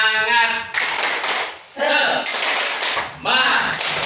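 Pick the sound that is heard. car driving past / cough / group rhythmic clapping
group rhythmic clapping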